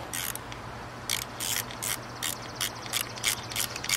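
A ratchet wrench clicks in quick, irregular bursts as bolts on a Yamaha 200 outboard motor are snugged down during cooling system maintenance, close and crisp.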